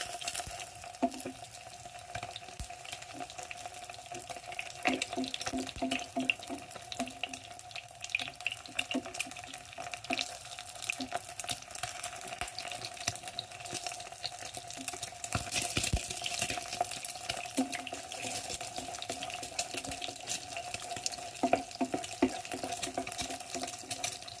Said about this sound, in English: Just splashing some fat over it, just to make the whites a bit more white rather than being funny.